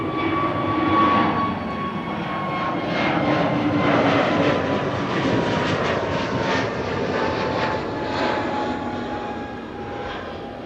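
A jet aircraft arriving at Amsterdam Schiphol Airport roars loudly and steadily nearby, its engine whine holding a high tone over broad rumble for the full stretch.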